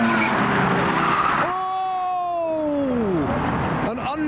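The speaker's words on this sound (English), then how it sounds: "An unnecessary use of the handbrake." A JDM car leaving a car show skids under a handbrake pull, letting out a loud tire squeal that bends downward over a couple of seconds and rises above a rough engine roar, with faint voices underneath.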